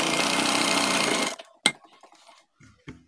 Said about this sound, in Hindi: यहाँ से यहाँ तक सिलाई लगाकर पक्का कर देंगे हम